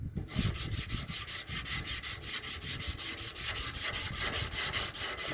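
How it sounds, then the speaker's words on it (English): Hand sanding of primer on a car body tub in crisscross strokes, a rhythmic scraping of about a dozen even back-and-forth passes, close and moderately loud. "It's sanding."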